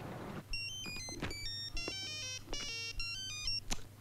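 A mobile phone ringtone plays a bright electronic melody of repeated tones, close and clear, with no talking over it.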